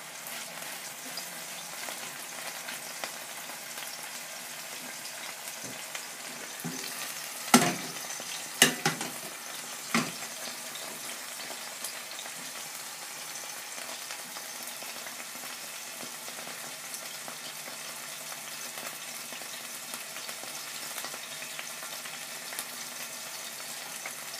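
Steak sizzling in a pan, a steady close frying hiss throughout with a few sharp clicks and knocks of tongs against the pan near the middle.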